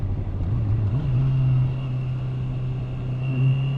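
A 2019 Honda CBR650R motorcycle engine pulls steadily in fourth gear, its smooth inline-four drone rising in pitch as it accelerates, then holding a strong, even note close by with wind rush underneath.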